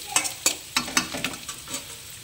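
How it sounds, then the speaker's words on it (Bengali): Panch phoron, the Bengali five-spice mix, frying in a pan of oil, heard as a string of sharp crackles and pops at an irregular rhythm, close and fairly quiet, with no voices. "এবারে একটু পাঁচফোড়ন দিয়ে দিলাম, লাল করে ভেজে নেব"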